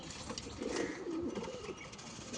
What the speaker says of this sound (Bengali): এটা কি পায়রা এটা? এটা দেশি গিরিবাজ।